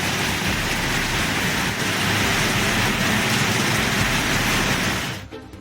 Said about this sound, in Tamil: இன்று காலை முதல் லேசான மழை பெய்து வருகிறது.